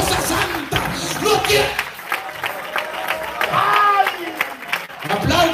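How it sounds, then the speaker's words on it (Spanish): A church congregation applauding steadily for several seconds, the clapping blended with crowd voices and a preacher speaking over it. "Apláudale, aplaude"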